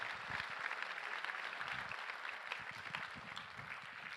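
An audience applauds at a gun-responsibility luncheon, a steady wash of many hands clapping at moderate volume for the whole stretch, with no talk over it.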